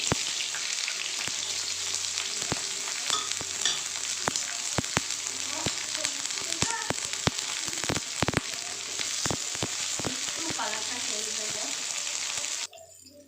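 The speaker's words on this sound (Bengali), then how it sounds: "পেঁয়াজটা ভাজা ভাজা হয়ে গেছে" Loud continuous sizzling of a medium onion frying in hot mustard oil, with crackles and pops throughout, ending abruptly near the end.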